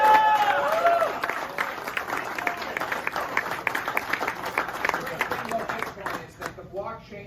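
Audience applause at a talk on blockchain and crypto, a dense crowd clapping loudly at first and then tapering off toward the end, with talk running beneath it.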